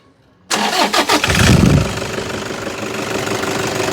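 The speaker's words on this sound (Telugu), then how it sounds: "మనం చూద్దాం ఒకసారి సింగిల్ సెల్ఫ్లో స్టార్ట్ అవుతుందో లేదో" After a moment of quiet, a Toyota Fortuner SUV's diesel engine cranks briefly, fires up loudly, and settles into a steady, rumbling idle.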